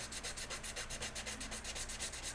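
Rapid back-and-forth rubbing of a fine sanding stick in wet sanding, about twenty short, even strokes at a steady rhythm, close and quiet, with no talk.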